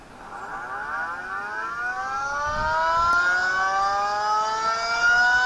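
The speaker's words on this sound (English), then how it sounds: "My tornado siren is going off." A civil defense tornado siren tone played through an Android phone rises slowly in pitch and swells in loudness over several seconds, a thin, wailing electronic sound heard alone, with a faint bump partway through.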